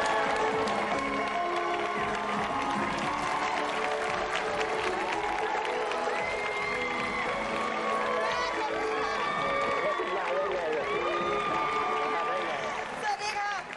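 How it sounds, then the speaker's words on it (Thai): Sustained studio audience applause and cheering on a television dating show fills the clip, steady and loud throughout, with lively music or voices layered over the clapping. "ขอเสียงปรบมือต้อนรับคุณแม่ของบุญทิ้งครับ"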